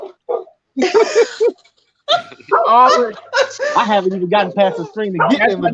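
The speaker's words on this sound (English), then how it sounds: "even though I'm getting barked at" Two dogs bark at someone arriving through a screen door at a house, their barks mixed in and partly masked by someone talking over them close by.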